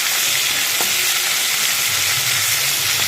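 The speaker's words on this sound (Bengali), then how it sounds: "আর দুটো তেজপাতা দিয়ে দিলাম, একটু ছিঁড়ে" Torn bay leaves drop into hot oil in a pan for Bengali crab curry, giving a steady, close, loud sizzle and crackle with no talk.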